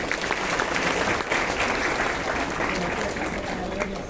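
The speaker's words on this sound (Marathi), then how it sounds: "त्यांच्यासाठी एकदा टाळ्या वाजवा." Dense, steady audience applause fills a college hall during a Women's Day program in Nagpur, loud and continuous for about four seconds, with a brief dip near the middle and a slight fade at the end.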